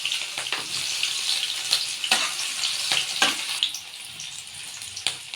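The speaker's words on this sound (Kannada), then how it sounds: "ಆಲ್ರೆಡಿ ಎಣ್ಣೆ ಕಾದೈತೆ. ಫಸ್ಟು ಮೆಣಸಿನ್ಕಾಯಿ ಹಾಕೋಣ." Green chillies frying in hot oil in a pan, a steady bright sizzle with sharper crackling bursts and stirring scrapes, close and loud, with no talking.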